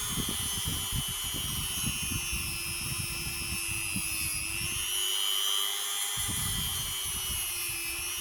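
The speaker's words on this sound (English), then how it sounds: "So you just turn your drill on." A drill spins a polishing head against a twisted copper wire brooch, a steady high-pitched whine that holds for several seconds and wavers slightly in pitch midway.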